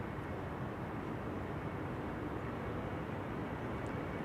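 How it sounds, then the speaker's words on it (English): A KLM airliner taxis at Amsterdam Schiphol Airport, a faint, distant, steady broadband engine hum with no distinct events and no voices. "KLM flight 1819 in the DTM special livery, taking cheater's lane, preceding KLM flight 565 going to Nairobi in Kenya"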